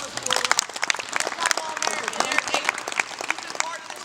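An audience at a youth wrestling technique clinic claps in a round of applause, scattered sharp hand claps under someone talking over them throughout.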